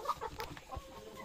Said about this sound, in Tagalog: Daming manok ah.